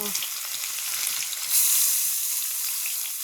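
Crushed garlic dropped into hot oil tempered with bay leaf and cumin for a koi fish curry, giving a loud, steady hiss of sizzling that swells briefly and holds close up, with no voices.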